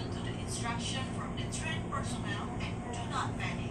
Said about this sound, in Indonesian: Masuk nih kereta barang ke jalur 5 stasiun Tanah Abang.